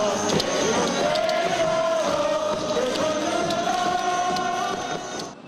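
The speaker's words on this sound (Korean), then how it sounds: "응원가 떼창도 돌아왔습니다." Baseball fans in a sold-out stadium chant a cheer song together, a dense, loud crowd singing in unison with sustained melodic lines under a constant roar of the packed stands.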